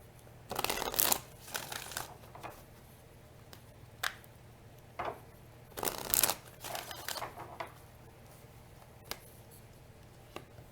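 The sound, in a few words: shuffling oracle cards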